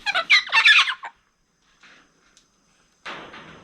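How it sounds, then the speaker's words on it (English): Turkey-like fowl gobble and call in a loud, rapid burst, then fall quiet apart from a few faint sounds, before a second softer, rougher call starts near the end. "Beautiful birds."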